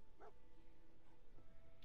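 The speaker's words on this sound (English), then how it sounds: "There's a dog." A dog in the post-apocalyptic game Fallout 4 gives a single short, bright bark-yip right at the start, then falls quiet against a low background hum.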